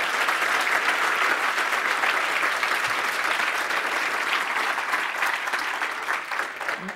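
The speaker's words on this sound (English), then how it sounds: "audience, applause for us." Audience applause at a hacking conference talk, a steady dense wash of clapping that holds at full strength for about seven seconds and tapers only slightly at the end, with no voices over it.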